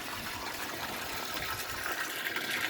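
An aquaponics bell siphon drains water from a grow bed, giving a steady, close rushing gush that holds at an even level for the whole stretch, with no voices.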